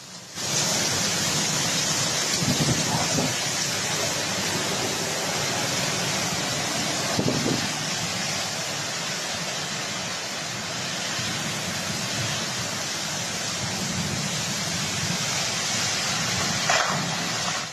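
Heavy rain pours steadily during a severe storm in Zagreb, Croatia, a dense unbroken hiss with faint low rumbles underneath, continuous and loud throughout.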